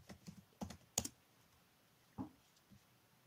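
A few separate keystrokes on a computer keyboard as a search word is typed, quiet, close clicks spaced irregularly with pauses between them, no voices.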